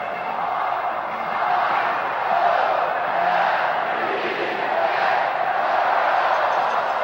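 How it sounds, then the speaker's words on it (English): A dense crowd roars steadily at a 1979 World Series baseball stadium during Game 6 between Pittsburgh and Baltimore, the cheer swelling in slow waves with no pauses and no single voice standing out. "Now there's Wild Bill Hagee getting ready for the cheer."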